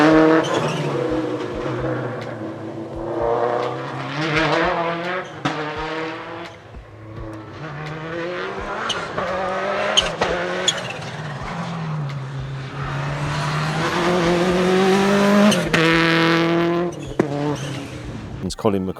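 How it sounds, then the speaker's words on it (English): A 1999 Subaru Impreza WRC rally car drives with a rising and falling engine and gearbox whine that climbs through the revs repeatedly, while someone talks over it throughout. "the whining noise from the car makes you sound like the old footage of Richard Byrne."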